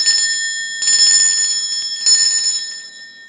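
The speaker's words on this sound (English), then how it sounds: "I feel like I need to ring the bell again 3 times" A small bell is struck three times in quick succession. Each bright, ringing chime overlaps the sustained tone of the one before, and the final strike fades slowly into quiet.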